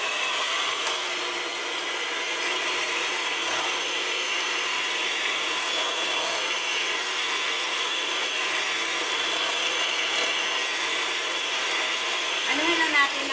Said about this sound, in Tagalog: I-blend lang natin siya.